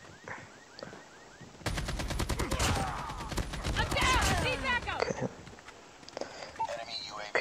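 In the Call of Duty Mobile video game, loud rapid automatic gunfire erupts in dense bursts for several seconds. A player talks over and around the shots.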